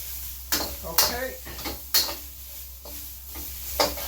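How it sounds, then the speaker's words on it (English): Zucchini and chicken are stir-fried in a wok, with a spatula scraping and clattering in quick, irregular strokes over a steady background sizzle, close by. "we're going to go in with the zucchini. And then we're going to stir fry this just for about a minute."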